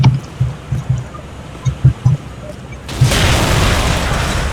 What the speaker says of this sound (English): I shot the red barrel.